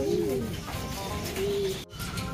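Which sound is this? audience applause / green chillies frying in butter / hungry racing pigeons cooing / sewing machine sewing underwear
hungry racing pigeons cooing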